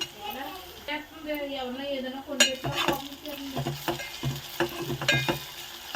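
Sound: frying vegetables in a pan for broad bean tomato curry

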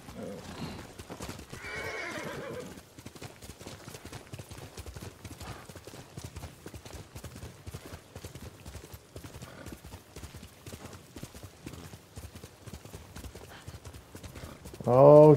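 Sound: horse galloping, hooves clip-clop, video game

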